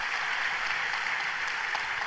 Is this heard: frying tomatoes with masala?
no